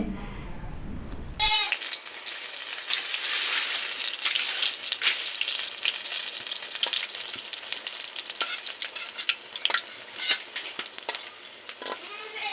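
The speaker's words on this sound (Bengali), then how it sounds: "প্রথমে বেগুনের চপটাই ভাইজে নিতেছি তারপরে ভাইজে নিব আলুর চপ" Eggplant fritters in gram flour batter frying in hot oil, a steady bright sizzle with crackles and pops that rises after a brief quiet start and continues for several seconds with no talking.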